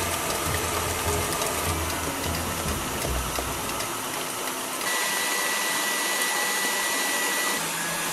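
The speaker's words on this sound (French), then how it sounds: "Et faites fouetter votre mélange jusqu'à ce que qu'il blanchisse et double" An electric mixer whisks sugar, salt and eggs for a sponge cake, a loud continuous whirring drone that shifts in tone partway through as the mixture thickens, with no voices.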